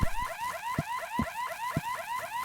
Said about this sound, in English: Warning, electrified when alarm sounds.